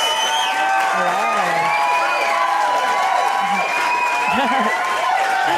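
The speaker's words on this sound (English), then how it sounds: "that's the most applause I've ever got" A live comedy audience cheers, whoops and applauds as a guest comedian is welcomed on stage, a dense, loud, steady wall of crowd noise with scattered shouts rising throughout.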